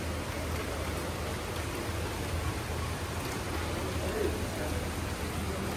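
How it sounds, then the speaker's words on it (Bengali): Rain falls on potted plants beside a balcony, a soft, even hiss running throughout at moderate level. "বৃষ্টি হচ্ছে, আমরা এখন বারান্দায় আছি। গাছের গায়ে খুব সুন্দর বৃষ্টির ছিটা এসে পড়ছে"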